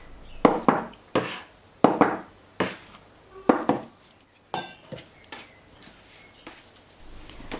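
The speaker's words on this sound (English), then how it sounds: "I'm gonna take my spatula and bring flour from the sides in the middle and mixing with wet ingredients" A spatula working flour into wet ingredients in a bowl for homemade cannelloni dough, heard as a series of distinct, close knocks and scrapes against the bowl in a loose, irregular rhythm.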